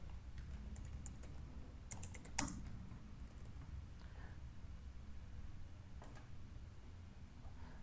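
Faint, close typing on a computer keyboard in quiet room tone, a few scattered key clicks with one louder tap near the middle.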